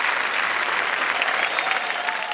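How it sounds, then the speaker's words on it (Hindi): Audience applause at a Hindi comedy show, a dense, steady wash of many hands clapping that fills the whole moment at fairly strong level, with no words over it. "ये ताली बजाने वाली बात है।"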